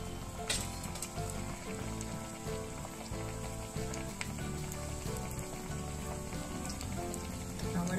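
Sabudana vada sizzle steadily in hot oil, a dense continuous crackle and bubbling that stays close and fairly loud throughout, with no talking.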